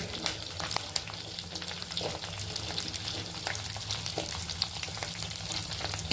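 Shallots, curry leaves and green chillies sautéing in a pan, a dense crackling sizzle with stirring, close and steady throughout, no speech.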